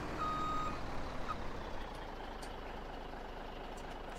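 In the Farming Simulator 17 video game, a semi truck parking gives out a steady reversing beep over a low engine rumble, clear and continuous with no talk.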